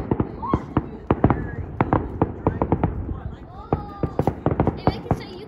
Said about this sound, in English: Explosions in the air are called fireworks.